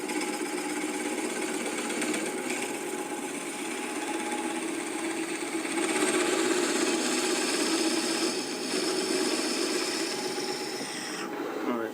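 A wood burl drilled on a lathe for a hollow globe ornament, giving a steady, close grinding whir with a raspy edge that swells slightly at times and runs on without a break.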